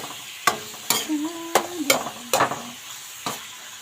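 Vegetables being sautéed in a home kitchen pan, with a spatula clanking against the metal in irregular sharp knocks over a faint sizzle, and a short tonal hum running underneath partway through.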